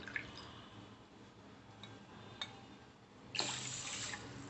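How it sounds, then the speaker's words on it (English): Water is poured into a pressure cooker holding rice, a soft trickling and splashing stream with a few drips, growing louder near the end, no one talking. "So I am going to add 3 cups of water."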